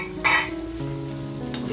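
Mandeli rassa fish curry simmers in a pot over a low flame, giving a soft, close bubbling sizzle with a couple of brief louder bursts and no talking.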